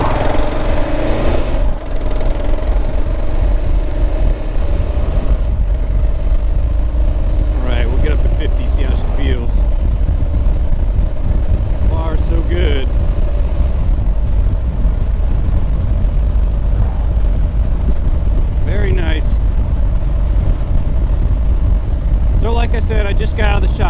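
A used 2012 Kawasaki KLR650 motorcycle cruising on a highway after three years in storage, its steady engine drone and wind rumble continuous throughout, with a rider talking intermittently over it.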